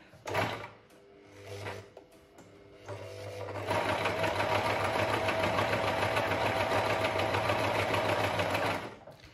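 A Privileg Super Automatik sewing machine runs with a twin needle fitted: a few short starts and clicks, then a long steady close stitching whirr that stops sharply near the end.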